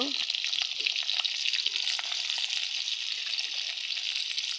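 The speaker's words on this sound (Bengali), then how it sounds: "পেঁয়াজ দিয়ে দিলাম, পেঁয়াজ ভাজার জন্য লবণ দিয়ে দিলাম" Onions with salt sizzle in a pan as the base for a chicken curry, a steady close frying hiss with a few light stirring clinks, no talking.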